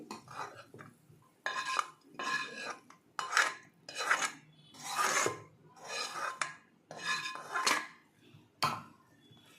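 Bun dosa batter being mixed in a bowl, heard up close as a steady series of rhythmic scraping, rasping strokes about once a second, with a faint utensil clink.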